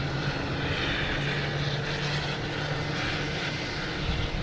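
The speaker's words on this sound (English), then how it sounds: "We got a very rude Spirit Airlines. They're making a whole bunch of noise." Loud, continuous roar of Spirit Airlines jet engines at Boston Logan Airport, a steady broadband rumble with a low engine drone holding throughout.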